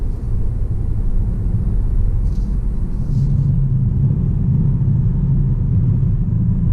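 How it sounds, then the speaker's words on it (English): A 2019 Kia Sportage with a 4-cylinder engine accelerating onto an interstate highway, heard from inside as a steady, loud low rumble of engine and road noise, rising slightly in pitch. "onto the interstate just to get a little bit of an acceleration"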